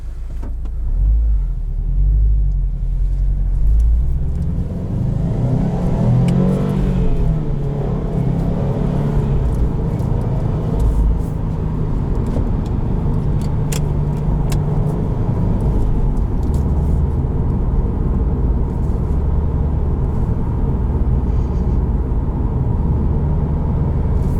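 A 2020 Subaru WRX STI's engine rumbles steadily from inside the car as it crawls slowly over rocks, a continuous low drone with a brief rise in revs early on and rough, bumpy undertones throughout.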